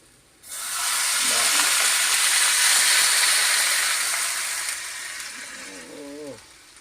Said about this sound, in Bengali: এই জল দেওয়া হচ্ছে।